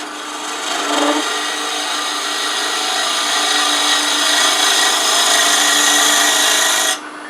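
A wood lathe turns a rook-shaped wooden pencil pot as a tool cuts shavings, producing a steady, close hissing scrape with a faint motor hum that runs unbroken for several seconds before dropping off.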